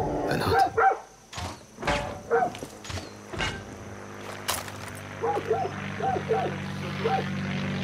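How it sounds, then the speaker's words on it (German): Dogs barking in the video game Far Cry 6, a series of sharp, loud barks in quick bursts, some close and some farther off, over a low engine-like drone. "Die haben Hunde hier."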